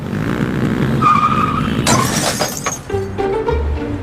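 A motorbike sound effect: it loses balance and crashes with a sharp shattering impact, skidding and scraping, and then clattering debris settles over a few seconds.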